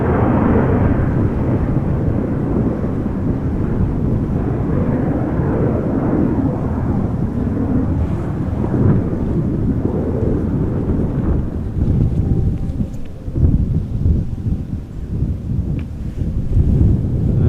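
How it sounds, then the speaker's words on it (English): Delta Airbus A330 airliner arriving at Amsterdam Schiphol, a loud continuous roar of jet engines on approach, rumbling and swelling with wind buffeting. "That is an A330 from Delta, it looks like. Yeah, A330 flight 164 arriving from Minneapolis."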